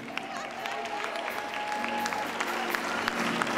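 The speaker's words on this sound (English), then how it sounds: "Clap your hands for her." A church congregation applauds steadily during a sermon, a sustained wash of clapping with music tones held underneath.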